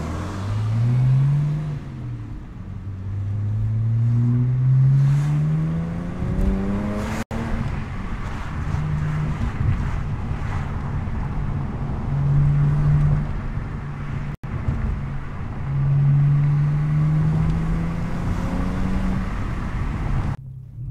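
A BMW E92 335i engine with a muffler delete hums steadily from inside the cabin, rising and falling in pitch as it accelerates and shifts, with open-window road and wind noise throughout.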